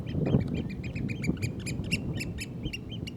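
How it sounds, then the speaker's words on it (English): Oystercatchers call on a rocky Isle of Mull shore, a rapid series of shrill piping notes repeating over a low rumbling background, fairly near and steady. "These oyster catchers"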